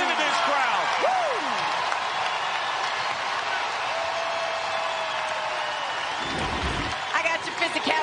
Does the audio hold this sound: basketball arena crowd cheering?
yes